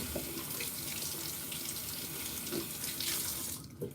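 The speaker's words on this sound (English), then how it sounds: "I'm gonna rinse my hands first" A tap runs steadily into a sink while hands are rinsed under it, a close, even rush of water with faint splashing changes, and the flow cuts off near the end.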